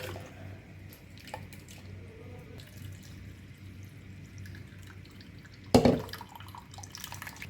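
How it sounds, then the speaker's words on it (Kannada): Water poured into leftover juice pulp for a second pressing, a soft trickle and drip under quiet room tone, then a brief louder splash near the end. "ಇದಕ್ಕೆ ಸ್ವಲ್ಪ ನೀರು ಹಾಕಿದರೆ"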